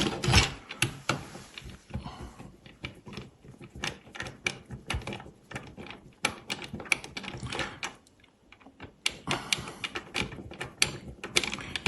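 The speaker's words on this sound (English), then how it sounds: "We have to loosen this screw." Screwdriver loosening screws on a corded rail, a close run of small dense clicks and ratcheting scrapes with a brief pause partway through, fairly quiet and with no talking.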